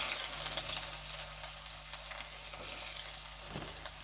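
Sliced onions frying in oil in a kadai, giving a soft, continuous sizzle at low volume with a faint stir or tap near the end.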